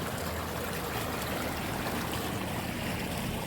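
Water rushes and gurgles steadily, a constant broad hiss of a flowing stream at the Wiyala Duki picnic spot heard close by with no talking.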